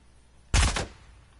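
A short burst of video game gunfire, a few rapid shots fused into one sharp, loud blast about a third of a second long, set against quiet background hum.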